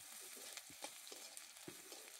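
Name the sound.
garlic and black cumin being stirred and fried in pan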